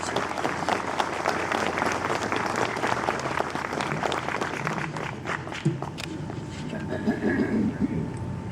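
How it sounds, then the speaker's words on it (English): Audience applause at a veterans' gathering welcoming a judge, a dense clatter of clapping hands that fills the room and thins toward the end, with a few murmurs and shuffling underneath. "Give him a round of applause, please."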